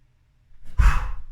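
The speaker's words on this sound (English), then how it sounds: "on your next exhale, you're going to drop down into that squat" A single forceful exhale, loud and close, as someone drops into a squat during a strength workout, rising from near silence and trailing off into breathy noise.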